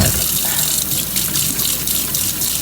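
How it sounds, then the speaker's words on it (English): A kitchen tap runs in a steady, loud, full-bodied rush of water into a sink while hands are washed, with no voices over it. "I'm going to wash my hands now."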